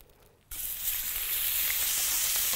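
Oil, chili and harissa hit a hot pan and burst into a loud, steady sizzle after a brief quiet moment, the frying hiss continuing close and unbroken.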